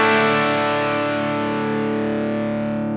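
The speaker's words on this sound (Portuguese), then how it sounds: "Guitarra, Tone Creamer, CSS Preamp usando o pré mais o gabinete dele." An electric guitar runs through a Tone Creamer distortion and a CSS analog preamp with its cabinet simulation: one thick, saturated chord rings out alone and slowly decays over three seconds.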